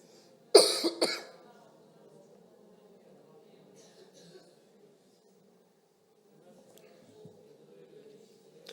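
Two quick, sharp coughs near the start, then a quiet room with faint murmuring and rustling.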